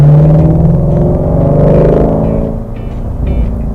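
A 2017 Ford Mustang GT350 exhaust in sport mode rumbles steadily and loud up close, deep and throaty, easing slightly toward the end, with a muscle-car growl.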